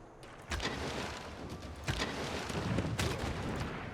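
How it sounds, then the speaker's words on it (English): Field cannon attacking in the video game Civilization 6: several sharp booming shots go off in sequence, each one with a short rumbling tail, over a dense layer of battle noise. "I believe this field cannon is the one that's able to attack"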